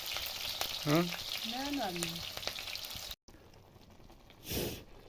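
Onion and spices frying in hot oil, a steady broadband sizzle that runs throughout, with a short gap and a brief louder hiss near the end; no talk over it.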